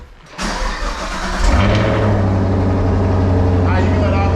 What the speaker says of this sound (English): I'll push the start button.